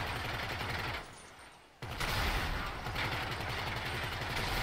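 Rapid, sustained bursts of turret gunfire from an armored limousine in GTA Online, loud and continuous, cutting out briefly for under a second before resuming at full intensity.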